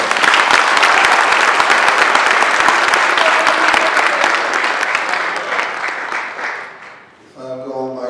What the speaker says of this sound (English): I think His Excellency deserves another beautiful round of applause